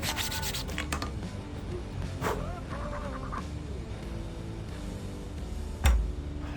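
Steady abrasive rubbing of sanding against a hard 3D-printed mold for carbon fiber, continuous and fairly close, with a sharp knock near the end.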